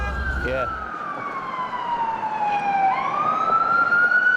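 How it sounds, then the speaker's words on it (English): An ambulance siren glides down in a long sweep and then climbs again, loud over constant traffic noise, with a brief low rumble at the start. "there's a lot of sirens."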